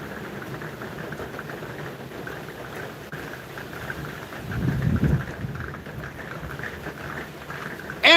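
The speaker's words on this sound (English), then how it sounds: "Yeah, it's raining." Steady rain falls outdoors as a soft continuous hiss, with a low rumble swelling briefly in the middle, fairly quiet and with no voices.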